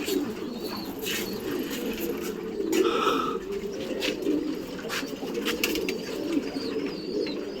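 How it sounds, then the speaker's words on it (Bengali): Pigeons at a pigeon loft coo continuously in a soft, low warble, with faint wing flutters and scattered chirps mixed in, no voices. "দুটো পায়রা উড়ছে"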